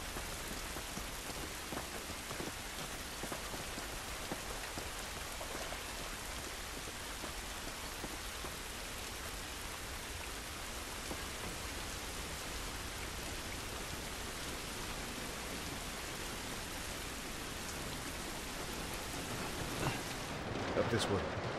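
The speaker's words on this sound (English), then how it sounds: "This rain ain't gonna do us any good" Rain falls steadily in The Last of Us Remastered video game, a dense, even hiss of drops on surfaces throughout, quiet but constant, rising slightly near the end.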